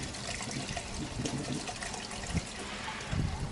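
Soapy water used to clean two funnels pours back out into its container, a soft continuous splashing trickle at moderate distance with no voices.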